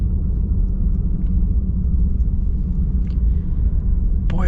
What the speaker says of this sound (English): It's got that nice diesel rumble.